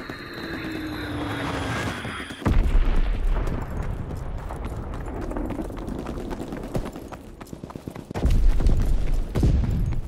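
Fritz X guided bombs detonate in the World War II shooter Call of Duty: WWII, with heavy, booming impacts and rumbling blasts among a dense mix of battle noise and crackling. A whistling tone fades as the first explosion hits.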